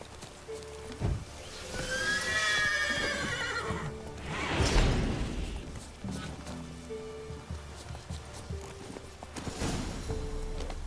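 A horse in The Witcher 3 neighs loudly in a rising, wavering whinny. A second neigh follows, with hooves clip-clopping and game ambience underneath.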